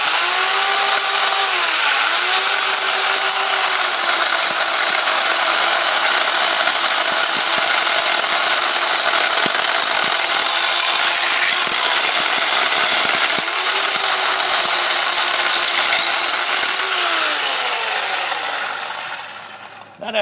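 A Worx 14 inch electric chainsaw cuts through a hard elm log, a loud continuous whining buzz that shifts pitch as the chain bites and then runs down at the end.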